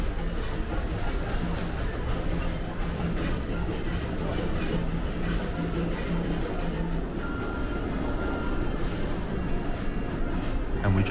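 The Disneyland Paris Railroad train runs along its track in a continuous low rumble with faint clatter, holding steady at moderate loudness for about eleven seconds.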